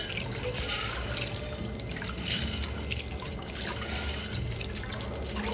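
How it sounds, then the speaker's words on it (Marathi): Dry rajma kidney beans are rinsed in clean water, with continuous splashing, trickling and dripping close by as the beans are stirred and sloshed; no one speaks. "अगोदर स्वच्छ पाण्यात धुवून घ्यायचा आहे।"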